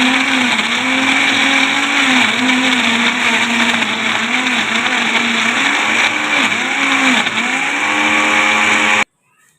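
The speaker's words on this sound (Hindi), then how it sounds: "और अब हम इसे कर देंगे बंद और अच्छी तरीके से हम कर लेंगे इसको ब्लेंड" An electric blender runs hard on a mint margarita with Sprite, a loud continuous whir that wavers in pitch as the load shifts, then stops abruptly near the end.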